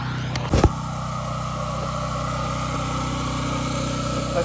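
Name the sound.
pressure washer engine running for house washing rinse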